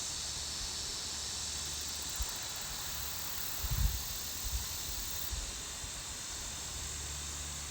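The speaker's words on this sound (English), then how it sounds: "You hear all those cicadas?" Cicadas drone in a dense, continuous high hiss around abandoned mining areas, a steady outdoor insect chorus with faint low rumbles and a few soft knocks beneath.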